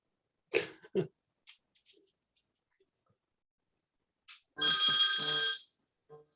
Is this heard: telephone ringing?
yes